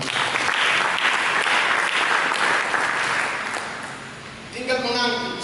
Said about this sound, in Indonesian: Mari berikan tepuk tangan bagi kita.